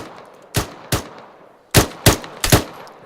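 Gunfire in the military shooter Arma III: five sharp, loud single shots in two bunches, two close together, a pause, then three in quick succession, with no talking.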